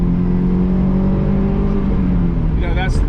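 A 2006 Honda S2000 engine hums steadily under load in the cabin, a loud continuous drone with no clear climb into high revs.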